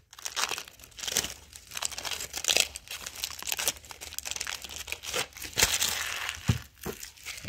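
A trading card pack wrapper crinkles and tears open close up in a flurry of sharp, irregular plastic crackles and rips, fairly quiet, with no talking.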